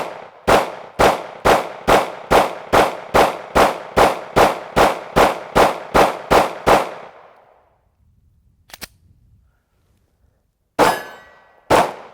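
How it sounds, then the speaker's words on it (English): A Ruger American 9mm pistol fires a fast, evenly spaced string of about fourteen loud, close shots. Then comes a short lull with a faint click, and two more shots follow. "let's go ahead and load these magazines back up and keep shooting"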